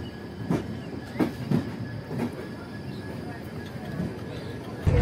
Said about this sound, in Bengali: ফাইনালি ট্রেন ছাড়লো, মোটামুটি 1 ঘন্টা লেটে ট্রেন ছাড়লো